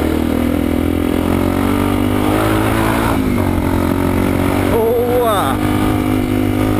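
A motorcycle engine revs hard and accelerates up close, a loud continuous roar rising in pitch, with a person shouting excitedly over it.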